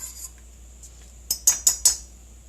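Hollandaise sauce being stirred in a pan, a utensil scraping faintly and then striking the pan in four sharp, evenly spaced metallic clinks near the end, close and fairly quiet, with no talking.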